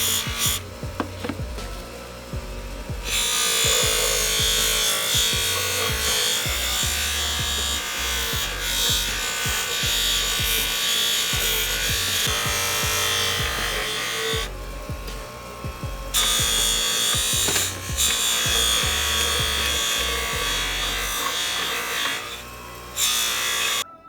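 Buffing wheel grinding rust off a forged ice-cream scoop blade, a loud steady whirring roar broken by short pauses as the metal is pressed on and lifted off.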